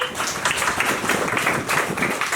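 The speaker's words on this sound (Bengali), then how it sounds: "রজার জন্য একটা তালি দেই সবাই" Audience applause for a child at a children's conference in Badalgachhi, a steady crackle of many hands clapping at close range for a couple of seconds with no talk over it.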